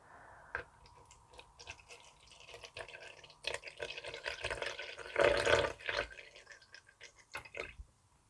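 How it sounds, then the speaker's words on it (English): Water runs and drips into a measuring container for mixing with powder, a trickling pour with intermittent splashes rising to a fuller fill midway, close and moderately loud with no talking. "So I'm actually going to mix 80 mils of water and 160 mils of powder."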